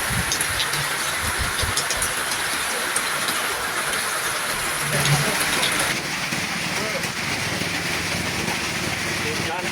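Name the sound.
hail falling with heavy rain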